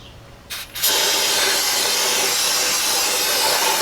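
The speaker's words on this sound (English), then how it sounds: "I'll spray all that out with brake clean, spray it nicey nice" A loud, continuous brake cleaner aerosol spray hiss starts after a couple of short bursts and keeps going steadily, close by, cleaning out a Jeep XJ differential during a fluid change.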